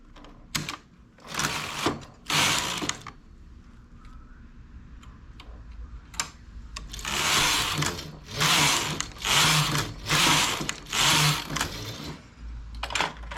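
A knitting machine works rows of a neck scarf, its carriage sweeping back and forth in repeated rattling, whirring passes with short pauses between them, close by and alone without talk.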